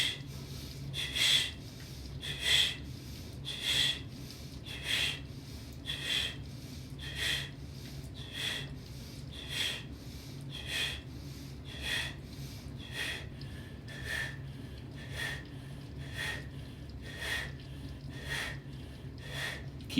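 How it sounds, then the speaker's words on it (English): Rapid bellows breathing with paired inhales and exhales, sharp nasal snorts repeating in a steady quick rhythm, close and fairly loud, with no talk. "let's do another 50 breaths, the Bellows breath"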